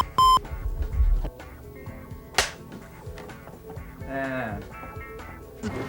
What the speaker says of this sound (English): Oh, the phone rings again.